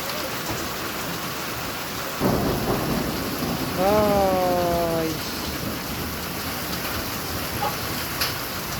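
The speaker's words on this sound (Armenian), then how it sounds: "ամբողջը կարկուտի մեջ է" A steady, hard downpour of hail drums outside while a low rumble of thunder rolls through; a brief whining tone rises midway.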